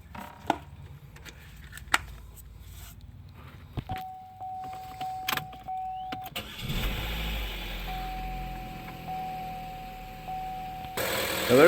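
A 2011-2015 Chevy Cruze 1.8L engine, just repaired for timing cover gasket oil leaks, cranks briefly after some clicks and workshop clatter, then catches and settles into a steady mid-level idle with a faint whine.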